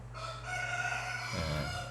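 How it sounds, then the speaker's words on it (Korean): A rooster crows once nearby, a long drawn-out call filling the whole moment and breaking into a rougher falling end, heard alone with no talking. "저 닭이 우는 것은 자기의 영역을 과시하는 거래요."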